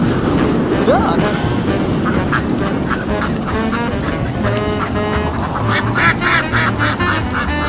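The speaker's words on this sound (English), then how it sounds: "Ducks?" Ducks quack and honk in a loud cluster over a dense, noisy background with voices mixed in, the calls repeating steadily and close by throughout.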